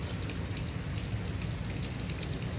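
Rain falls steadily onto umbrellas, making a dense, even hiss with close pattering drops that carries on throughout, with no voices heard.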